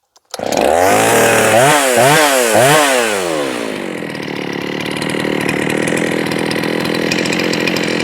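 A Redmax 621 chainsaw engine at close range, blipped several times with rising and falling revs before settling into a loud, sustained high-rpm free-spinning scream.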